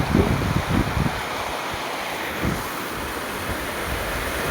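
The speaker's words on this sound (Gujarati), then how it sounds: "જો આટલી નદી હાલી જાય છે." The Derala Mahanadi river in flood runs past a farm after heavy rain. It makes a steady, broad rushing roar, with low gusts of wind buffeting the microphone near the start.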